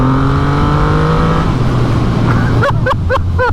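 A 2021 Triumph Rocket 3 R motorcycle's big engine pulls hard and loud close up, its rising, shifting drone accelerating through the gears with wind rush on a ride.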